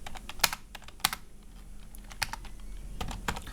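Fingers tap a computer keyboard while code is written in VS Code, with scattered single keystrokes and a few sharper clacks at an irregular pace, close and quiet with no voices.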